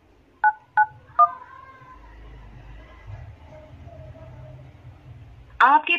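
Three short keypad beeps ring out in quick succession as a birth year is entered on a phone to set an SBI PIN, followed by quiet background rumble and a final burst of chirpy tones.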